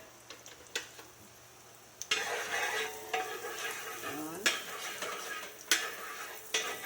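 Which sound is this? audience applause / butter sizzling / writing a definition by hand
butter sizzling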